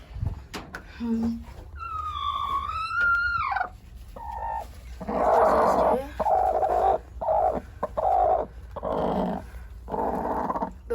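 Chickens cluck and squawk in short bursts nearby, with a drawn-out rising call early on and several loud clucking calls that follow.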